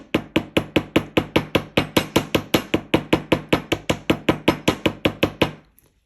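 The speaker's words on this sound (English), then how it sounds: "we're going to add a little bit of texture by using the round part of our hammer" The round face of a hammer strikes a wire ring for texture in rapid, even blows, around two dozen sharp metallic taps at a steady beat before stopping.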